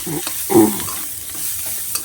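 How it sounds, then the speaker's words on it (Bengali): Small hilsa fish fry in a pan with green chillies and a little cumin powder, giving a brief scraping stir and a soft sizzle that swell for a moment over a low steady hiss. "দিয়ে মাছটাকে ভালো করে ভাজা করে নিতে হবে।"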